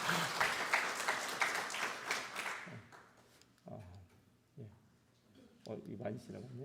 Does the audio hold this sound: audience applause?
yes